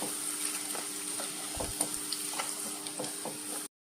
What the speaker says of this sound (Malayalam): ഇച്ചിരി കരിയാപ്പിലയും കൂടെ വറുത്ത് കോരി